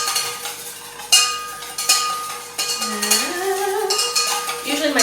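Metal whisk clinking and scraping against a bowl as egg yolk is beaten for mayonnaise, with irregular taps and a few sharper knocks, close and moderately loud, alone without talk.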